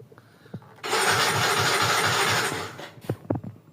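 A Yamaha Mio J scooter with a starting fault is cranked by its electric starter: a few clicks, then a loud steady whirring rush for about two seconds before it cuts off, followed by rattling knocks close by.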